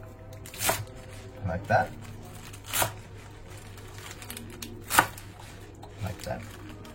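A knife cuts off and discards the hard part of a piece of food, giving a few sharp, crisp chopping strikes spaced out over a steady background while a person talks.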